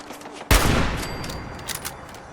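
A turret opens fire in Fallout 4, a sudden loud burst of rapid gunfire that rings out and slowly decays over a couple of seconds.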